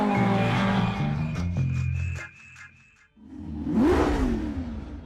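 A Volvo rally car on twin Webers with a close-ratio gearbox racing a twisting TARGA Tasmania stage, its engine roaring and shifting up, dropping away briefly, then surging loud again as the car sweeps past close with a whoosh.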